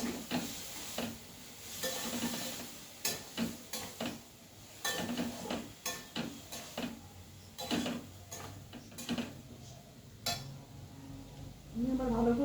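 Spices, potatoes and vegetables are stirred in a cooking pan, giving a steady run of spoon clinks and scrapes in an irregular rhythm, fairly quiet, with a faint sizzle underneath.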